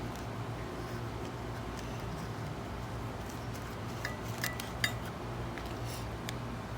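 A knife works through cedar-wrapped griddled basa fish against a hard surface, giving faint scattered clicks and light clinks over a low steady background hum.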